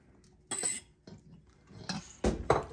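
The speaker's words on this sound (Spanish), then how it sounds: "y vamos a darle otra batida" Eggs with added yolks beaten in a bowl for chiles rellenos, utensil clinking against the bowl in a few irregular bursts, close and moderately loud with quiet gaps between.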